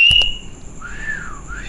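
A person whistles a single rising-and-falling tone, clear and fairly close, after a couple of brief clicks at the start, with no talking.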